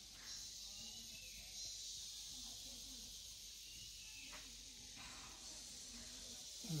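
Crickets in dense greenery among trees at a resort in Coorg make a faint, steady high-pitched drone. It runs continuously under quiet outdoor ambience.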